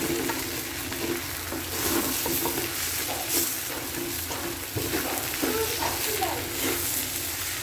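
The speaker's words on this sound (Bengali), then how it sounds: "চালগুলো ভাজতে থাকবেন।" Raw rice grains frying with salt in a pan, stirred continuously, a dense close sizzle and gritty scraping rattle running throughout with no talk.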